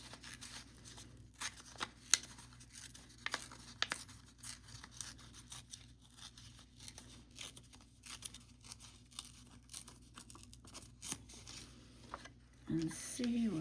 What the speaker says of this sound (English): I'm going to try to rip around it